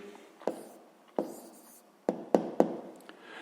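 A pen or pencil writes an answer by hand, making soft scratching strokes broken by five distinct taps as it touches down, close and quiet.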